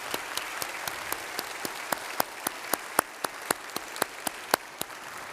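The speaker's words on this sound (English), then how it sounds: "Can we just give them a round of applause?" A church congregation claps in a round of applause, heard as a quiet, fairly distant wash of hands with a sharp, regular beat of single claps standing out about every quarter second.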